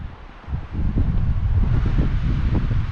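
Wind gusting steadily on an exposed mountain hiking trail in a volcanic national park, a broad low rushing that builds after the first half second and stays loud, with buffeting against the microphone and no talk.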